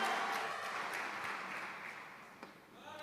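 Faint, distant clapping from a church congregation drifts through a roomy space. It fades gradually over a few seconds and sounds thin and far off.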